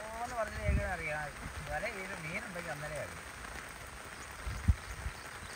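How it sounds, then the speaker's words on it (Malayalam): Rain falls in a Kerala village during net fishing, a soft, steady patter with a couple of sharper drips, heard beneath a voice talking over the first half. "നല്ല അടിപൊളി മഴയാണ് കേട്ടോ"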